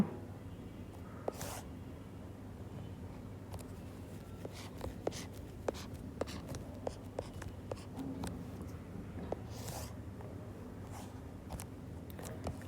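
Pen scratching out a handwritten total in accounting figures, soft irregular strokes and taps over a quiet room hum, close and faint.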